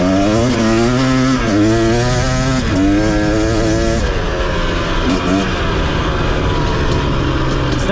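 A 2023 KTM 250 XC two-stroke dirt bike rides through deep sand on single track, its engine loud and close, revving up and down in repeated surges, then settling into a steady drone.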